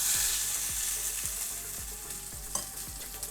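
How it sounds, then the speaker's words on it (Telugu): Hot tempering with curry leaves sizzles as it is stirred into ridge gourd chutney. Repeated scraping strokes of the spoon run over a soft, continuous frying hiss, close by and with no talk. "ఈ పోపుని కలుపుకుందాం పచ్చడిలో"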